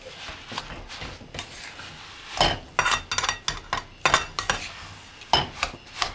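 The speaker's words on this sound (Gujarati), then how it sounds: "તે આપણે નાખી દેવાનો છે અને તેને પણ આપણે બરાબર મિક્સ કરી લેવાનું ઉપર નીચે કરીને" A spoon scraping and clinking in a pan while glucose powder is stirred into a sesame chikki mixture, irregular close knocks and rubs with no talking.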